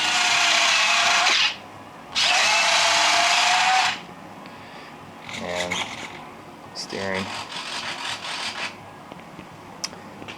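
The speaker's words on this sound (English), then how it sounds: "put in the Hobby King 514 digital retracts for the main gear" Hobby King 514 digital retracts on an RC P-51 model cycling the main landing gear, with two steady whirring servo runs up close, then softer mechanical clicks and rubbing.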